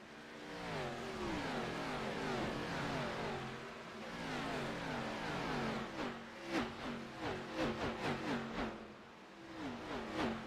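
Race cars accelerating at Darlington Raceway, several engines revving and climbing in pitch together, loud and close, with rapid gear-shift pulses toward the end.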